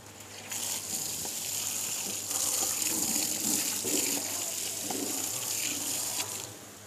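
Tap water runs steadily into a tub while something is rinsed and washed under the flow for fish quarantine, a continuous close splashing gush with no talk.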